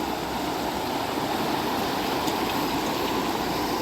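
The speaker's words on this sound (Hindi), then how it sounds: "पानी बहुत तेज़ है यहाँ पे, धार बहुत तेज़ है।" The fast-flowing Narmada river rushes loudly and steadily, a close, unbroken wash of water noise with no voices.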